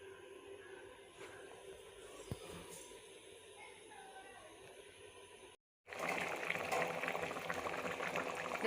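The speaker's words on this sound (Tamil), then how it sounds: "இந்த குழம்பு கொதிக்கிட்டோம்." A pot of village-style South Indian egg curry, muttai kulambu, bubbles at a low, steady simmer. It cuts to near silence for a moment, then returns as a louder, denser boil.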